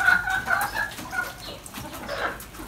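Hens clucking indoors as a flock comes in to eat food left on the floor, with overlapping soft clucks and chatter throughout, moderately close and steady, no talking.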